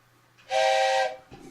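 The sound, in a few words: toy train whistle being blown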